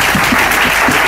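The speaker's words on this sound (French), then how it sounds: "Applaudissons le Seigneur." A church congregation applauds at a French-language sermon, loud, dense clapping that fills the whole moment with no pause.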